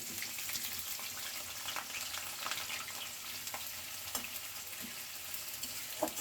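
A curry sizzles and fries in a pan before small baila fish go in, with potato and eggplant, a steady soft crackle with occasional stirring clinks and scrapes, close and fairly quiet.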